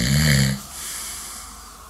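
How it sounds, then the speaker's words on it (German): A man snoring in his sleep, one loud, rasping inhaled snore followed by a softer airy exhale, very close. "Am Schnarchen ändert sich aber nichts."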